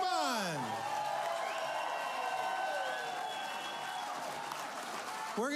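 A concert audience at an awards night claps steadily in sustained applause, with a brief whoop or cheer at the start and a room-filling wash of hand claps throughout.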